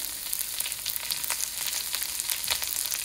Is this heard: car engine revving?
no